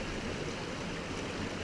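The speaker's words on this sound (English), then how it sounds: "This was kind of an unexpected water crossing here at first." Creek water rushes steadily during an off-road creek crossing, a continuous broadband wash of flowing water with no pauses and no voices.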